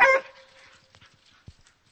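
One loud, close bark from a hunting dog at a treed black bear opens the moment, then fades to faint rustling and a single low thump.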